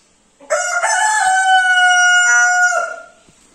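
A pet parrot mimics a rooster's crow at home: one loud, close, sustained cock-a-doodle-doo lasting over two seconds, clear and alone with no talking.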